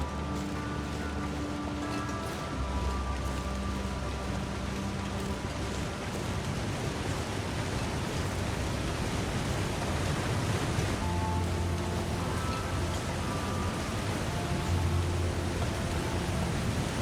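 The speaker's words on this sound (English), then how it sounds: "Hey, Waterfall, you're nice and loud." A waterfall in the video game The Long Dark roars as a loud, steady wash of broadband rushing water, continuous throughout with slight swells and faint tonal game sounds layered over it.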